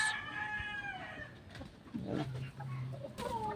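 A pure Boston bloodline gamefowl rooster crows once near the start, a clear rising call with strong harmonics. Softer clucks and fowl noises follow, and some faint background sounds run beneath.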